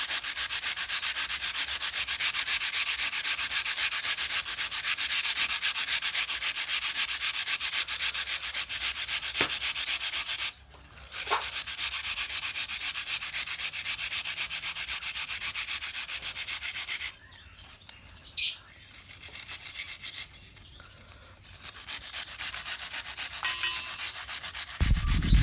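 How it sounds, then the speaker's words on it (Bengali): Biscuits are crushed into crumbs by hand, giving a continuous close gritty rubbing and crunching with a few brief pauses. "বিস্কিটটা ভালোভাবে গুঁড়ো করে নেবেন।"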